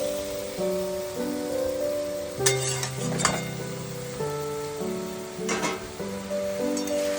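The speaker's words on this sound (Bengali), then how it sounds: "পোস্তটাকে একটু হালকা নাড়াচাড়া করে নিলাম" Poppy seeds stirred in a frying pan with a low sizzle, broken by a few sharp clinks of a utensil against the pan, over steady background music.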